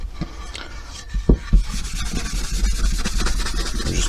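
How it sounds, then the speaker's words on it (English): Cloth buffing a wax finish on a wooden cottage cabinet with cubbies, soft close rubbing strokes with a few bumps and knocks, over a low background hum. "Just buff. Now while I'm buffing,"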